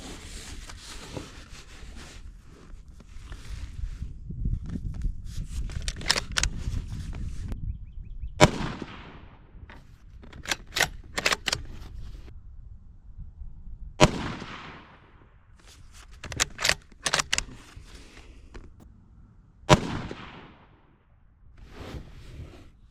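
Three sharp, loud rifle shots from a Ruger American Gen 2 fired at an outdoor range, each a sudden crack with a decaying tail, spaced several seconds apart over a low rumble of ambient noise.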